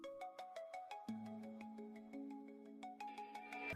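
A phone ringtone plays a repeating melodic chime pattern of short bright tones, quiet and alone without any talking.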